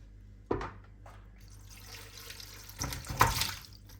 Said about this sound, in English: you've got your sieve there so that it'll catch the pork, and then you've got the bowl below that to catch the liquid